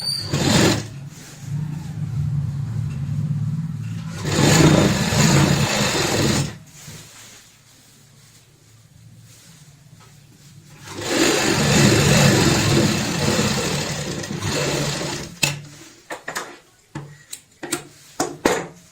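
Sewing machine stitching a bed sheet runs in two long close bursts of steady rapid whirring, separated by a quieter pause, ending with short stop-start clicks and bursts.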